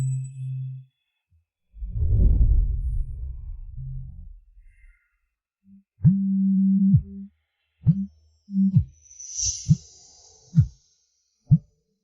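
Low, steady ringback tones from a phone call repeat in short pulses, with a muffled rustle early on and faint clicks between the later beeps.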